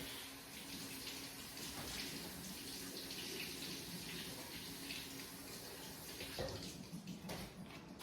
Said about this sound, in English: So what I do, I wash it.